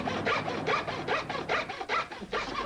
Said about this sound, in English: He's sawing something.